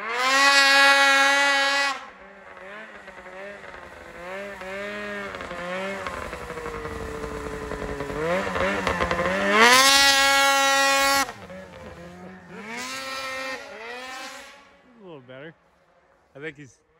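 A Polaris 600RS snowmobile engine revs hard during wheelie attempts, a loud, close two-stroke whine rising and falling in long surges with brief drops between throttle bursts.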